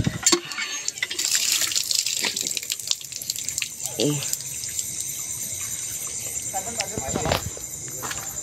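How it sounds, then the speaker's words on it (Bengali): Water splashes and pours as hands and feet are washed, probably at a village tap, with intermittent splashing, close and fairly loud, while a voice speaks over it. "তো হাত পা গুলো ধুয়ে নিই।"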